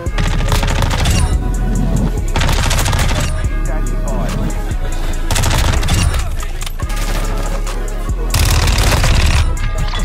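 Rapid, loud gunfire from Call of Duty Modern Warfare 2 search and destroy gameplay, dense fusillades and automatic bursts packed close together with booming impacts, steady and continuous throughout.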